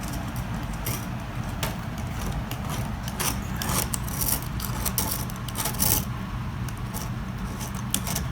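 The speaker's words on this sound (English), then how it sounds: "so this is really just peeling off the old copper foil, but it's still got some of that butyl rubber on there" Old copper foil is peeled off the edge of a stained glass insulated unit that still carries some butyl rubber. Close, crinkly scraping and tearing comes in irregular bursts over a steady background hiss.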